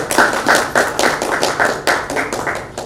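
Scattered hand claps at a technical presentation on robotic substation monitoring, a few people clapping in a loose, uneven rhythm of about ten claps, moderately close, with no talking over them.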